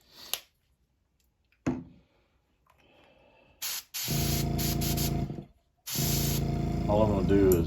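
An airbrush sprays Wicked Detail Moss Green paint onto a crankbait lure in a few hissing bursts, a short test puff and then two longer steady sprays, close up after a couple of faint clicks.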